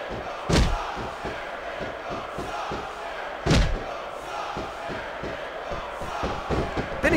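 Wrestling arena crowd in Smackdown Vs Raw 2006 chanting and cheering for John Cena, a rhythmic pulsing roar punctuated by two heavy thuds of bodies slamming the mat.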